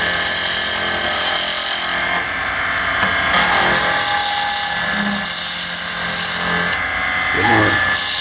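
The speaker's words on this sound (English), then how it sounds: "You'll notice that the chisel goes right through that copper on there with no problem." A steel chisel scrapes steadily against a scalloped pen blank inlaid with copper as it spins on a wood lathe, a constant loud whirring grind with the motor hum underneath and brief shifts in tone as the cut changes.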